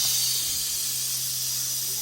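A gas stove burner burns under a pressure cooker holding chicken, giving a steady, even hiss that runs alone and unbroken with a low constant hum beneath.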